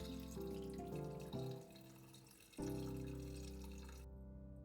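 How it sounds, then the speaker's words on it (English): Hot water poured through a sheet of paper onto skin-on fish fillets for sashimi, a steady close splashing pour that briefly stops near the middle, then resumes and gradually tapers off. "I place a sheet of paper on the fillets and pour the hot water over them"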